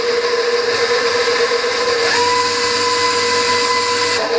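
Electric mixer whirring at a steady high pitch through carrot cake batter with vanilla, a constant motor drone with a slight shift in tone midway.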